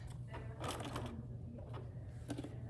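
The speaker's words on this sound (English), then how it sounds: "I'm gonna sew across to where I started." A sewing machine stitches across fabric for a dog leash in short, quiet whirring runs, pausing briefly between bursts in a calm room.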